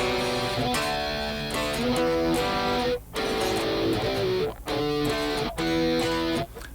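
Distorted guitar power chords from a riff chug in short bursts with brief pauses, unmuted extra strings ringing loosely through the chords.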